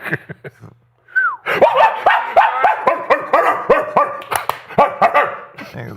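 A dog barks repeatedly in quick, loud bursts close by, with a few short yips before a steady run of sharp barks.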